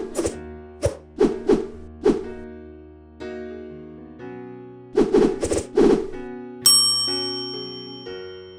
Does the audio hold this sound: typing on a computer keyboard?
no